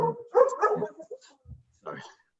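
A dog barks in a few short, muffled bursts somewhere in the room, under and between a man's speech during a meeting.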